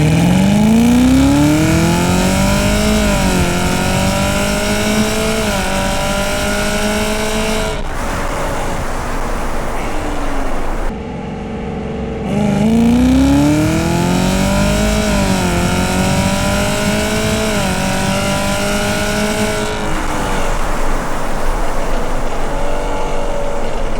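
A tuned Camaro, loud and close, revving hard through two full pulls, its engine pitch climbing steadily with brief drops at each shift from second through third into fourth gear, then a short lull before the second run.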